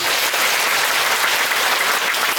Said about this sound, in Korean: 여러분 박수 한번 주시겠습니다.